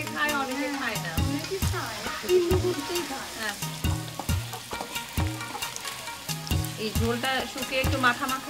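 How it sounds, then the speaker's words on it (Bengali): Crab fries in a pan, giving a continuous sizzle broken by regular scraping and clanking strokes of a stirring utensil, close and fairly loud. "হ্যাঁ, হয়ে গেছে কাঁকড়া ভাজি।"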